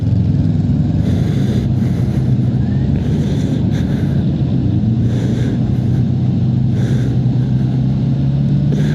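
Honda CB650R E-Clutch motorcycle engine heard while riding, a loud steady rumble with throttle swells and engine-braking drops, plus wind noise, no talk.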